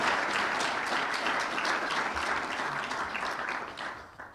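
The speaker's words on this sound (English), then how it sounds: "Let us give him, in absentia, a round of applause." Audience applause in a hall at a business event in Botswana, dense and sustained at close range, then tapering off at the end.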